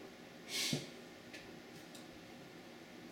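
One short, sharp sniff close to the microphone, followed by quiet room tone.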